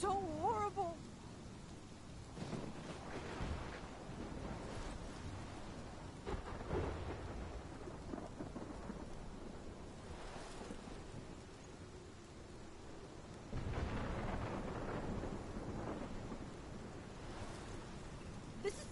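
Rumbling thunder rolls through a rain-soaked storm in the video game Life is Strange, with steady rainfall underneath and heavier swells of thunder midway and near the end, while low voices murmur faintly beneath.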